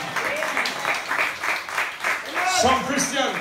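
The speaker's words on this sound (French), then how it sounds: "Applaudissons Jésus." Church congregation applauding during a French-language sermon: steady, close clapping from many hands with voices mixed in, lasting a few seconds.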